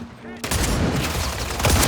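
Akimbo shotguns fire in the Modern Warfare III video game, a loud, dense fusillade of blasts that kicks in after a brief quieter moment and continues without a break.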